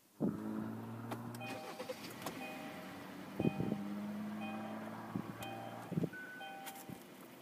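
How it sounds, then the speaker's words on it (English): A 2018 Kia Optima LX cabin during push-button start: soft chimes and electronic tones repeat over a low steady hum, with a few clicks, fairly quiet and close. "Push button start is also standard on the Optima"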